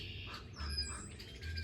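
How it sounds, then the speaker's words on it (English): Crows and other birds squawk and chirp outdoors in the morning, faint and somewhat distant, several overlapping calls with no talking. "The birds are going crazy."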